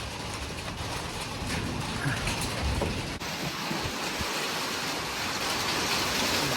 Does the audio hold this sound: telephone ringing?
no